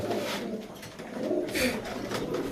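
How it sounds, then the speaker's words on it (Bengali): Soft cooing from a female Giribaz high-flyer pigeon, low murmuring calls repeating in the background under steady room noise. "এ হচ্ছে একটা মাদি কবুতর"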